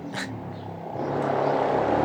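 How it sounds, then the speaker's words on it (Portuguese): A motorcycle passes by outside, its engine noise swelling from a low rumble to a steady, louder roar over about two seconds, with no talking. "Ó a moto"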